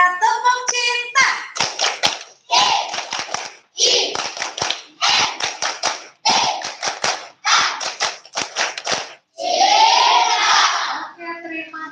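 Schoolchildren at a morning assembly perform the tepuk cinta clapping chant, crisp groups of rapid rhythmic handclaps in repeating patterns alternating with shouted chanting voices, ending in a loud cheer.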